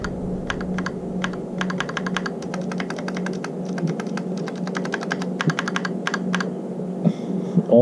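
Someone types on a modified GK61 mechanical keyboard fitted with sound deadening, producing close, rapid bursts of clacking keystrokes with short pauses between runs and a few heavier stabilizer thocks near the end.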